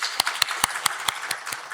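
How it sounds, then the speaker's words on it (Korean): A church congregation claps in welcome of a member during a Sunday service, giving a sparse, regular run of sharp claps about every fifth of a second, close and fairly light. "근데 지금 박수로 환영하도록 하겠습니다."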